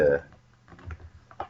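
Someone types on a computer keyboard while filling in an online registration form: a short, quiet run of clicking keystrokes, with faint speech in the background.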